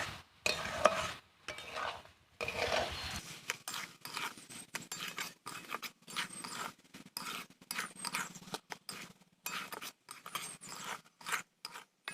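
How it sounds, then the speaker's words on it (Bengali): Coconut, sugar and milk stirred in a pan for coconut nadu, a spoon scraping in repeated short strokes, close and moderately loud, with brief pauses between bursts. "এইভাবে আমি নাড়তেই থাকবো যতক্ষণ না এই চিনিটা, তারপরে দুধটা না শুকনো পর্যন্ত।"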